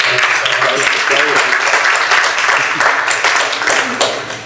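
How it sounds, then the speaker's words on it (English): Audience applause at a university event, a dense, steady wash of many hands clapping from a large crowd, loud and sustained throughout, with voices mixed in. "Let's give ourselves a round of applause."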